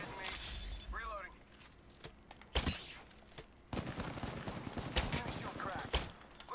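Gunfire in the video game Apex Legends: sharp shot bursts and cracks come in irregular volleys under ongoing game voice lines and chatter, with a few louder close hits standing out.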